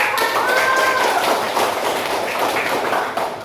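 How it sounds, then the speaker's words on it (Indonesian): A primary-school class claps their hands together during a micro-teaching lesson on ablution, a dense, steady patter of many small claps filling the room for a few seconds. "Ya, tepuk tangan untuk"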